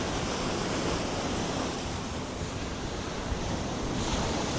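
Strong wind buffets the microphone at a Southern California beach, a dense, loud roar of rushing air mixed with surf, steady and unbroken throughout with no voices.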